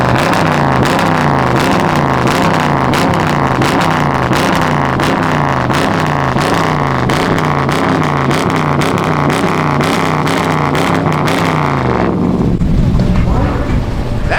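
A loud car engine, just short of a Scat Pack, revs in a rapid pulsing rhythm, a deep throbbing exhaust note that holds for about twelve seconds before cutting off abruptly, with wind buffeting the microphone.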